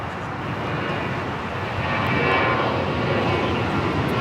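Boeing 787-9 Dreamliner jet engines at Los Angeles airport, a loud continuous broadband roar that swells slightly partway through, heard from a distance without talk.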